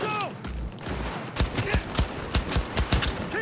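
Video game gunfire rattles in rapid bursts of close, sharp shots, mixed with game noises and a voice shouting.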